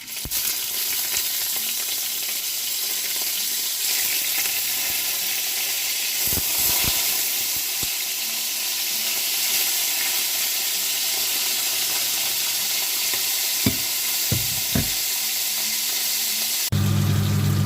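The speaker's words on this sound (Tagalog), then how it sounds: "Habang nagigisa tayo, lagay natin yung ating bangus." Milkfish (bangus) fries in a pan of sautéing aromatics, giving a steady, close, dense sizzle that runs without a break, with a few soft stirring knocks and a brief louder burst near the end.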